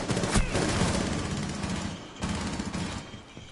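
Automatic weapon fire in Rainbow Six Siege, two dense bursts of quick loud shots with a brief gap between them, close and harsh.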